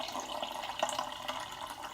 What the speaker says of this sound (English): All right, guys, let's fill this with water.